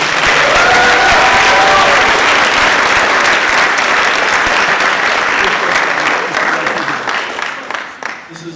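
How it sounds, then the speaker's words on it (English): Loud, dense applause fills a hall at a school fine arts awards night, many hands clapping steadily before tapering off near the end. "Can we have a round of applause for CAPA"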